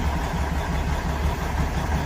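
A steady low idle of the Matheran toy train's narrow-gauge locomotive engine rumbles continuously, a constant mechanical drone with a faint periodic throb, close by and moderately loud, with no voices.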